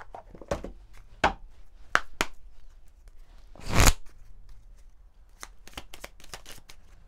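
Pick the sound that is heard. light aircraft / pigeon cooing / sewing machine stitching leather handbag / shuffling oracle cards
shuffling oracle cards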